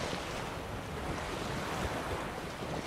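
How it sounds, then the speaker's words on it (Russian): Wind rushing over open water with surf and waves, a sailboat's sail catching and flapping in the gusts while sailing in The Witcher 3; steady, broad and fairly loud, with no voices. "Отклонись немножко от ветра, у тебя парус хлопает."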